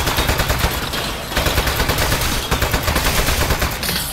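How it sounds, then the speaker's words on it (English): Turret gunfire in the video game Aperture Desk Job: loud, close, relentless rapid-fire bursts of automatic shots that continue almost without pause, alone without talking. "I can't hear you with all the gunshots."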